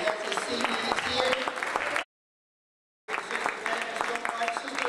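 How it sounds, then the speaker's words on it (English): An audience at a mosque benefit event applauds, steady clapping for about two seconds, then a sudden gap of silence before the applause resumes just as strongly. "Let's give him a warm round of applause."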